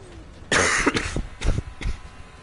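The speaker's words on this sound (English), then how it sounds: "I'm gonna cough." A person coughs close by, one loud burst followed by two or three shorter coughs, heard between laps of an F1 2019 racing game.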